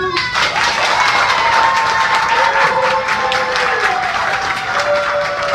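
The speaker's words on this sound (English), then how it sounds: "All the applause you hear, all the people here, they're participants in Pop Warner football" Studio audience of Pop Warner football participants applauding, a steady wash of clapping and cheers that carries on throughout, with a voice speaking over it.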